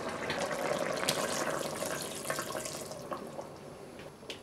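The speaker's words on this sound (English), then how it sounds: "And just add a little water." Water pours steadily into a pot of red-cooked pork belly with chestnuts, a continuous splashing stream that slowly softens, with a few small clinks.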